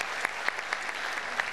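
An audience claps steadily at a KALP TSM choir concert, dense continuous applause with a few sharper individual claps standing out, fairly close and without any voices.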